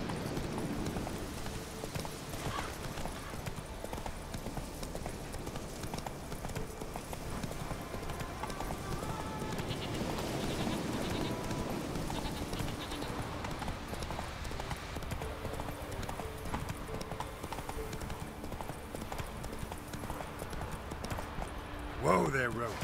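Roach the horse trots along in The Witcher 3: Wild Hunt, with steady, evenly paced hoofbeats continuing throughout under a faint background and occasional voice.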